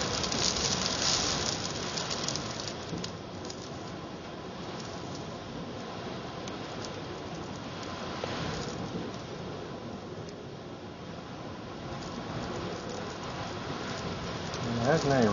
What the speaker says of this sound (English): Probably not until after this dust storm blows through.